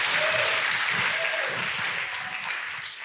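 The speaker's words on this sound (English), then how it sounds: "So guys, give him a huge round of applause." Dense, loud applause from a conference audience at a sales event fills the room, holding strong before easing off slightly toward the end, with a faint voice briefly audible underneath.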